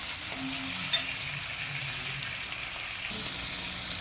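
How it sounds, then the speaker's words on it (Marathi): Tomatoes sautéing in a pan for masala bhindi give a steady, close sizzle with soft stirring scrapes and one brief utensil tap, and no voices over it. "आता मी त्याच्यात टोमॅटो टाकते. टोमॅटोला आपण 1-2 मिनटं परतूया."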